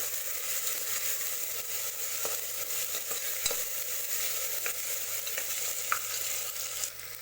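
Chopped tomatoes are stirred into a sizzling dhaba-style chicken curry masala, with a continuous frying hiss and scattered spoon scrapes and taps against the pan.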